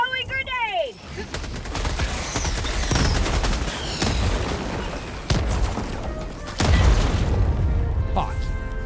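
A video-game firefight with a grenade blast and bursts of gunfire crackling and booming close by, sharp impacts recurring across several seconds, with a player's voice talking over the action.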